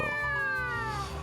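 A cat in the Fantasy Life i video game gives a single drawn-out meow, close and clear, with no speech around it.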